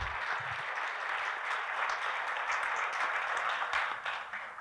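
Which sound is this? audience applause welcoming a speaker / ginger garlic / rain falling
audience applause welcoming a speaker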